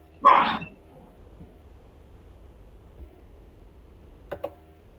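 A female dog gives a single loud bark near the start, followed by a quieter short yelp or sound near the end, heard indoors during an online talk with low room noise.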